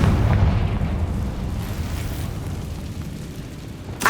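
A Confringo fire spell bursts in Hogwarts Legacy, a loud close explosive boom that rolls into a long rumbling tail, followed by a sharp pop at the end.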